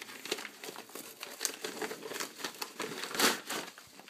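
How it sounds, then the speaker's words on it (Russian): Yellow paper parcel wrapping crinkles and crumples as a package holding an iPad case is opened by hand, a steady run of close, rustling crackles with louder bursts, no voices. "Дмитрий приступает к распаковке, к нашему любимому действию."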